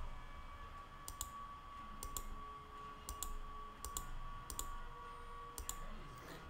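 Computer mouse clicks during work on a multi-color beer sign, arriving in short sharp pairs and singles every second or so over a steady electrical hum, with no talking.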